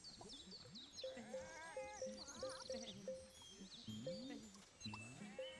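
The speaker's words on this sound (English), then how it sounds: "Let's get some more sheeps." Sheep bleat repeatedly in the farming game Viva Piñata, several wavering calls overlapping and trading off against a soft background with light game ambience.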